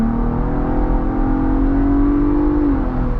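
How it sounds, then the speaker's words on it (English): A 2024 Ford Bronco Raptor SUV's EcoBoost engine hums steadily at high revs in sport mode, then its pitch climbs and drops near the end, loud and close throughout. "you can hear how good this engine sounds"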